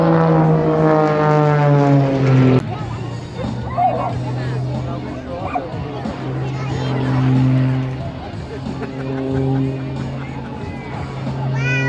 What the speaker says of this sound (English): So warm welcome to pilot Jack Bidliff, who's our commander of the Bulldog today.